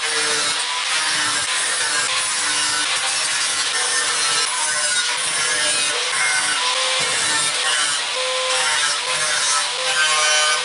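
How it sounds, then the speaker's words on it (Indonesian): Harsh, continuous grinding of hollow light steel tube by a grinder fills the whole stretch, a loud abrasive whine with slight rhythmic surges, close by and without speech. "Sekarang kita akan menggerinda sisa-sisanya itu"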